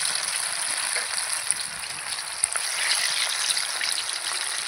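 Chicken satay pieces fry in hot oil, giving a steady, close hiss and crackle with small pops scattered through it, continuous and without talk.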